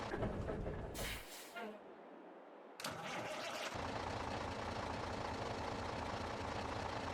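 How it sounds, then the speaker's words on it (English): A Kenworth W900 custom truck in Farming Simulator 22 shuts down and then restarts, heard from outside, settling into a steady, loud diesel idle that fills the rest of the clip. "just listen to see what the engine sounds like"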